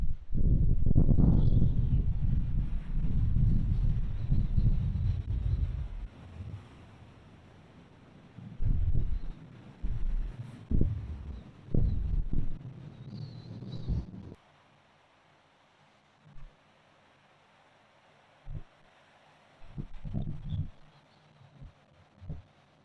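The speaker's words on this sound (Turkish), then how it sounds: "burası açık bir deniz olduğu için bayağı bir dalga ve rüzgar var" Strong wind buffets the microphone at first, then eases to a faint open-air hush broken by intermittent low splashes and knocks of waves on a stormy open-sea shore.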